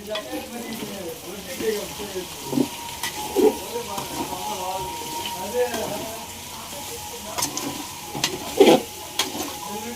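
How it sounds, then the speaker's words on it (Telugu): Tomato, green chilli, onion and curry leaves stir-fry in a pan at home, giving a steady sizzle with scraping stirs throughout, while people talk in the background. "టమాటా, పచ్చిమిర్చి, ఉల్లిపాయలు మొత్తం కరివేపాకు కూడా దీంట్లోనే వేసేసింది. మొత్తం కలిపి వేసుకోవాలి."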